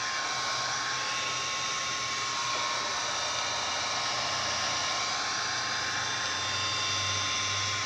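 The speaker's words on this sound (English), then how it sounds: "you just take a heat gun and shrink it around it" A heat gun blows steadily while shrinking tamper guard sleeves onto A/C fittings on a condenser, a constant close airy whoosh with a faint tonal whine, unbroken throughout.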